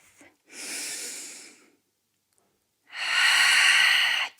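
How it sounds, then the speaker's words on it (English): Breathing during a yoga pose: two long, airy, close breaths separated by about a second of silence, the second one louder, with no talking over them. "Inhaling here, one more breath."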